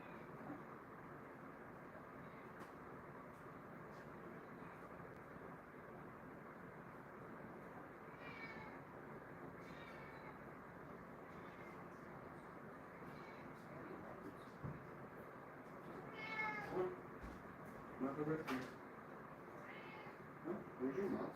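A pet cat meows a few times at home, the calls brief and fairly close, with a low steady background hum throughout.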